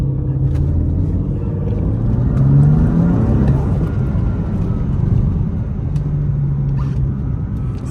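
Low, steady engine rumble from a BMW M3 F80 with a turbo, a close in-car sound that swells slightly mid-way under faint background noise.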